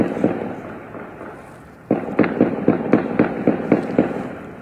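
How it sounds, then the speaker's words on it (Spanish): Detonations and gunfire crackle in Ciudad Juárez as a rapid string of sharp bangs, distant but distinct, following a quieter stretch of background noise. "Desgraciadamente, detonaciones todos los días."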